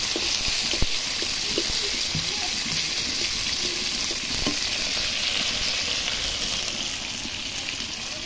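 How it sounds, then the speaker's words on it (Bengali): Pieces of rohu fish frying in a wok while being stirred, a steady close sizzle and hiss with occasional spatula scrapes and knocks. "এই যে আমি কড়াইতে দিলাম, একটু নেড়ে নিচ্ছি।"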